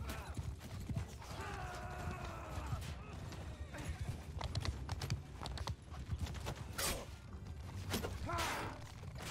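Horse hooves clip-clop at a gallop in the Bannerlord battle game with the Warhammer: The Old Realms mod, mixed with neighs, weapon swooshes and thuds under shouting voices.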